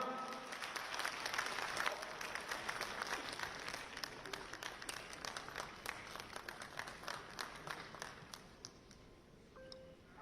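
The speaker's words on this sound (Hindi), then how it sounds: "तालियां।" Audience applause at a book launch ceremony at Delhi University, a fairly faint, steady wash of many hands clapping that swells early and then gradually tapers off.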